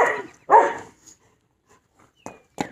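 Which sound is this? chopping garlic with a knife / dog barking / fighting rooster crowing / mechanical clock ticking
dog barking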